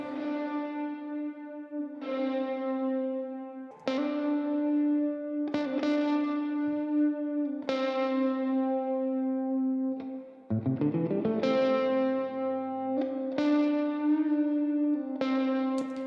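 Clean electric guitar plays a slow series of plucked notes and chords through an Epic Plate plate reverb plugin, each ringing out into a smooth, lingering reverb tail.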